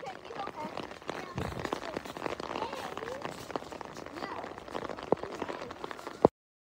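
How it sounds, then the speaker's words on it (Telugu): Rain falling outdoors on a snowy day in Dallas gives a dense, steady patter and hiss that runs continuously with small scattered taps. A voice talks over part of it. "రెయిన్ స్టార్ట్ అయిపోయింది"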